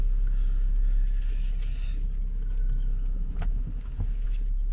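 Car being driven slowly and parked in a garage, a steady low engine rumble with a few soft knocks and bumps near the end.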